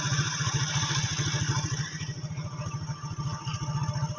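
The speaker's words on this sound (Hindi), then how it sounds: "आगे से मोटरसाइकिल आ रहा है और हम रुक गए हैं कि वो गुजर जाए" A motorcycle engine idles and putters close by on a narrow rural road between farm fields, a steady throbbing rhythm that dips briefly and then holds near, with no talk over it.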